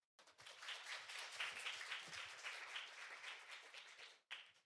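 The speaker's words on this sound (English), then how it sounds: "Please give him a warm round of applause." A conference audience applauds a presenter at an AI symposium, the clapping starting abruptly and holding as a dense, steady wash of many hands for about four seconds before cutting off, then briefly resuming.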